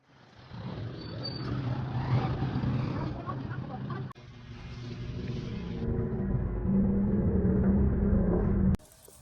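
A tricycle ride through heavy traffic in Imus, a continuous rumbling engine drone with road noise that stays loud and close for most of the ride, then cuts off abruptly near the end.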